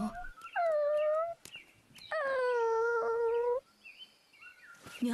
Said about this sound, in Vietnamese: Vậy là một con chó nhỏ đáng thương bên cạnh chó mẹ.